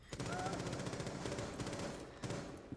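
Caveira's submachine gun firing in Rainbow Six Siege, a rapid burst of rattling shots fairly quiet and near, with a voice talking over it partway through.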